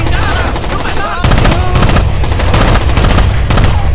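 Sustained automatic gunfire from the video game Rainbow Six Vegas rattles loudly and continuously in rapid bursts, with a short break near the middle.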